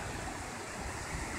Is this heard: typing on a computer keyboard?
no